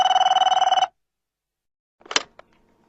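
A telephone bell rings with a rapid, evenly pulsed trill for almost a second, then stops; after a pause of silence, brief handling clatter follows as the receiver is picked up.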